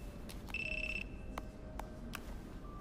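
An electronic phone ringtone sounds in an anime scene: a short, bright, steady tone held for about half a second among softer clicks and low room noise, with no talking.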